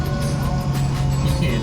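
A car drives along in second gear, a steady low engine hum and road rumble with a faint whine, close and continuous for a brief moment.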